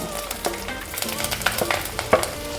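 Mustard seeds, fenugreek and chopped ginger sizzling in hot oil for a Pathanamthitta-style fish curry, giving a steady close crackle with scattered sharp pops and a faint tonal background, with no talking.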